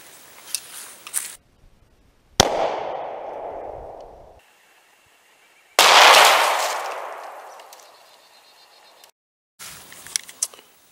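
Two sharp 9mm gunshots firing 115 grain full metal jacket rounds crack loud and close at an outdoor ballistic test, each followed by a long decaying echo, with fainter clicks and handling noises between.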